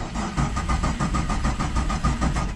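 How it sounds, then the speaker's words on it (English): A car with an LS1 engine in a Nissan Patrol cranks repeatedly with a fast, rhythmic churning, close and steady, never catching into a run. "if we get the keys out and start it, it'll kick over"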